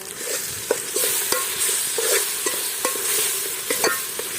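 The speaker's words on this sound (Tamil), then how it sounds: "ஒரு வதக்க வதக்கலாமா?" Ginger-garlic paste sautés in hot oil for a vegetable biryani, with a steady close sizzle broken by regular spoon taps and scrapes against the pot.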